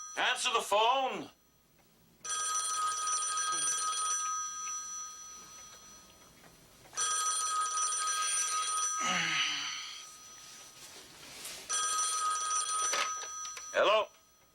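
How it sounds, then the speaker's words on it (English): Telephone ringing in a home drama scene: loud electronic ring bursts repeat in a steady pattern with short pauses between them, and voices are heard briefly around the rings. "Terry, answer the phone"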